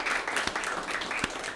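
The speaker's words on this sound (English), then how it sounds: "Let's have a final round of applause for James and Kristi" An audience at the end of an art and poetry gathering gives a brief, close round of applause, with a couple of sharper claps standing out in the steady patter.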